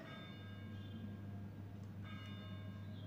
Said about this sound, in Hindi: मुझे घंटी का आवाज़ आ रहा है ऊपर